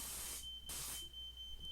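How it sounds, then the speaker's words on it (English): A smoke alarm beeps a steady, piercing tone, set off by dust blowing near an uncovered Tesla hairpin circuit. Loud hissing bursts from the spark gap come and go over the alarm. "this smoke alarm that's going off is because I don't have a cover over this, so dust is just blowing into the air"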